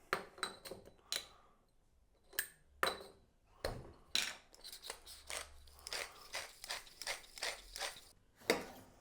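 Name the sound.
pepper mill grinding pepper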